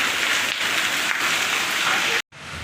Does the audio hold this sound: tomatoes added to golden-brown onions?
no